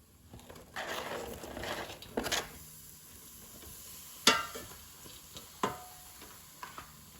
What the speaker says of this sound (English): So let's mix the potatoes. And add the mushrooms.